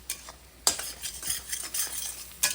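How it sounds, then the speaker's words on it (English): A utensil stirs garlic in bubbling butter and seasoning in a pan, with quick scraping strokes and a soft sizzle close up and no voices. "we'll mix this around a little bit to get everything evenly coated"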